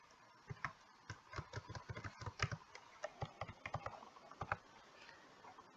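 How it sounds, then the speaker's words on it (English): Password being typed on a computer keyboard: a quick, irregular run of crisp key clicks at close range over a low steady hum, with no talking. "Type in your password,"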